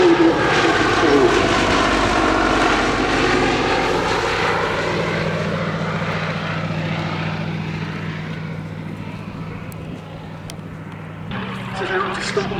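A Fairey Swordfish Mk1 biplane at a military air show, its propeller engine droning loudly as it passes and slowly fades into the distance, with someone talking over it throughout.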